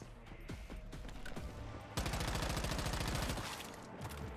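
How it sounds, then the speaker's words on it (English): Bursts of rapid automatic gunfire rattle through a video game firefight, a dense, sustained volley after scattered shots, mid-distance and fairly faint. "somebody's shooting at me"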